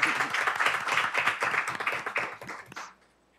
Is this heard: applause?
yes